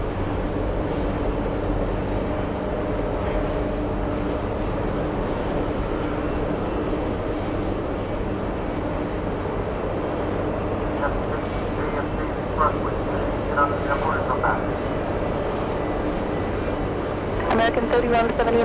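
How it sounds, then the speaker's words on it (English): A Boeing 747 airliner taxis at JFK airport, its engines a steady, distant broadband roar and hum that persists throughout, with faint radio chatter and a brief higher hiss near the end. "747 is taxiing"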